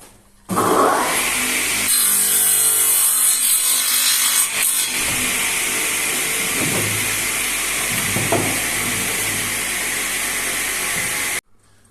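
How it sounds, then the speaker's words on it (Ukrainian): A miter saw cross-cuts wooden blanks for door trim: the motor spins up with a loud whine, the blade grinds through the wood for several seconds, then the sound cuts off abruptly. "приступаємо до торцювання заготовок"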